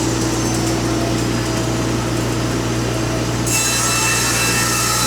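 A sawmill cuts green hemlock siding, a loud steady grinding rasp of blade through wood over a constant engine drone, brightening sharply partway through, close with no voices.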